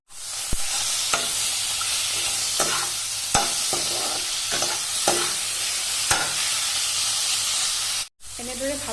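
Chicken pieces fry in a hot pan for a Assamese boiled-chicken dish, giving a steady loud sizzle broken by several sharp clanks and scrapes of stirring, with a brief cut of silence near the end.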